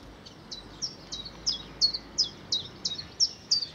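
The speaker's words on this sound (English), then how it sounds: "chiff chaff behind me" Chiffchaff singing in countryside near a barn on a walk from Uckfield to Lewes, a run of about a dozen evenly spaced, high chirping notes, fairly close and clear over quiet background.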